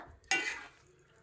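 A ladle gives one close, brisk scraping stir through Kerala-style pumpkin and onion curry with ground coconut paste in a pot, then the sound quickly fades, with no voices.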